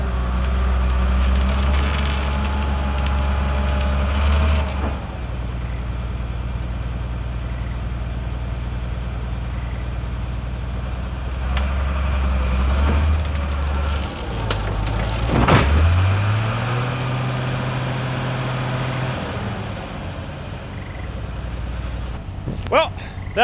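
An old Komatsu dozer's diesel engine labors at a steady low drone while winching a Caterpillar D8 that hangs on the winch line, with the engine note rising and straining near the middle before settling again. Faint speech is heard in the background.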